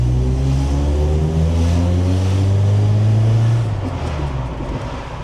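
An old carburetted Saab engine drives through London streets, a steady close drone with rising harmonic pitch as it accelerates, then easing off toward the end.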